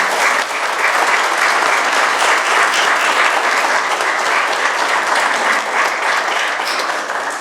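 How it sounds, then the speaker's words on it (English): Dense, loud audience applause fills the room after a question at a public conversation event on immigrant justice and the food system, sustained and even from start to finish. "let's give a round of applause and thank him for that question."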